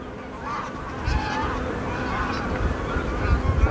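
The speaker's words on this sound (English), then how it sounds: "you can certainly hear that from all the wild geese behind me" A large flock of wild geese honks continuously as it flies past, a dense, overlapping chorus of calls that grows louder toward the end.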